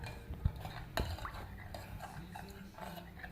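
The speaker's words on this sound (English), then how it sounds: "We can mix it up a little bit, get everything melted." A utensil stirs melted butter with sweetener and cinnamon in a dish, giving faint, soft scraping and a couple of light clinks against the container, quiet and close.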